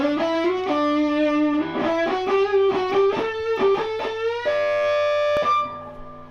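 Distorted electric guitar plays the opening of a solo: sustained singing notes with bends, a quicker run of picked notes, then a held high bend, loud and alone.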